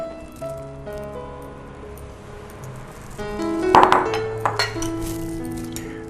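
Sesame mixture tipped into sugar syrup in a kadhai for til barfi, a burst of clinking and scraping against the pan partway through over a background of steady musical tones.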